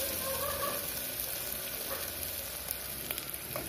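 Close, steady sizzling and crackling of masala for Chettinad mutton kuzhambu frying in hot oil until the oil separates, with occasional stirring and no voices.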